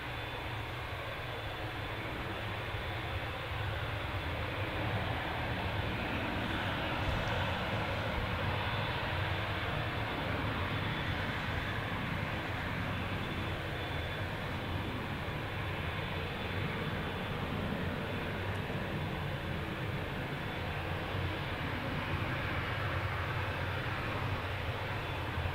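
A Ryanair airliner at Manchester Airport gives off a steady, continuous jet engine roar, a broad constant rumble that stays even throughout, heard from a distance with no talking.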